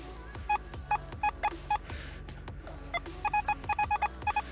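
Repeated short electronic beeps, a two-tone signal pulsing in quick irregular bursts, loud and close, with brief pauses between clusters.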